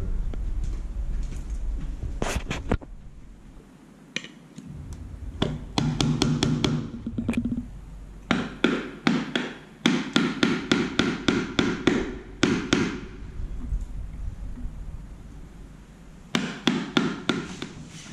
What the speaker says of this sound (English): we're going to chisel out a 90-degree so it fits right to the edge, hopefully, of the new door frame